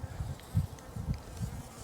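Low, steady buzzing of honeybees and yellow jackets at a feeder swells and fades in soft pulses, close by, with a faint rustle underneath.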